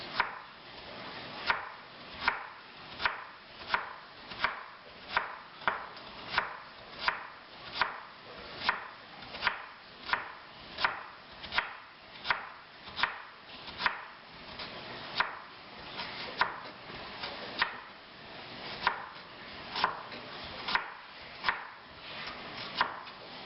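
Knife chopping two small carrots into very small rounds on a cutting board: a steady, even run of crisp close-up chops, evenly spaced throughout with no talk.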